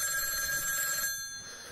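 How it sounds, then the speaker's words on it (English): A telephone bell rings steadily, with a bright electronic tone that cuts off partway through, leaving a quiet room tone. "do not answer this phone call"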